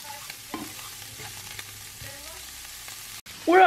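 Food fries and sizzles in a pan with a steady low crackle and occasional stirring clicks, ending in a louder burst of sizzling.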